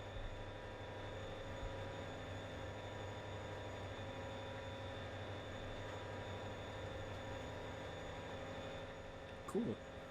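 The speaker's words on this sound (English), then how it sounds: "Freight train." A freight train rumbles past in the Trainz Simulator 3 railway game, a steady low drone that runs without a break from start to end, with a short brighter clank close to the finish.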